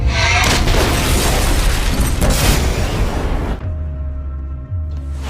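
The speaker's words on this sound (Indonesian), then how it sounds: "mobil tersebut meledak." A car explodes in a loud, sustained film-style blast with dense rumbling debris for several seconds, then the roar drops to a low lingering hum and crackle.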